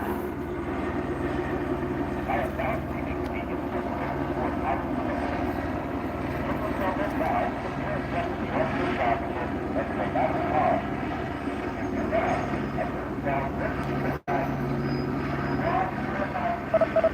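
Police helicopters flying overhead at night, a steady low rotor and engine rumble that stays continuous throughout, with scattered voices talking underneath.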